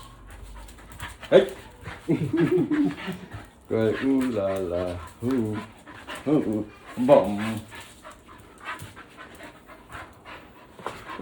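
A dog pants in quick rhythmic breaths close by in a vet clinic, mixed with people talking and a few whimpering sounds.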